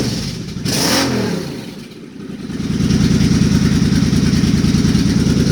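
A Suzuki Boulevard C50 motorcycle engine fitted with a Cobra FI2000 fuel controller revs up, drops back, then settles into a loud, rough, steady high-rpm drone close by.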